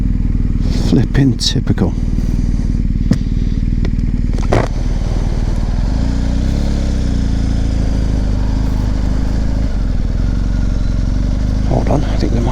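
A BMW R1250GS motorcycle engine idles at a petrol station, a steady low rumble running throughout while someone speaks briefly over it.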